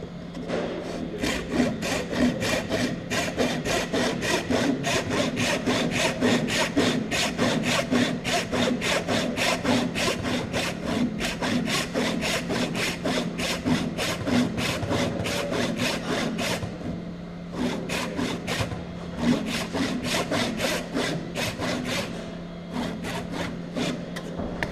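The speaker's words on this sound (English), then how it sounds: "And that's our fourth cut, straight down." Hand saw cutting straight down through a piece of wood on a bench, steady rhythmic back-and-forth strokes sounding close and loud throughout, with a brief pause near the end before sawing resumes.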